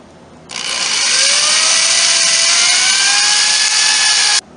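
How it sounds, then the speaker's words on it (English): A power drill with a 1/8 inch bit bores pilot holes in wooden boards for a medicine cabinet, giving one steady, close, rising whine of about four seconds with nothing else heard. "For the screws I'm going to be using, I'm using a 1/8 inch bit for the pilot holes"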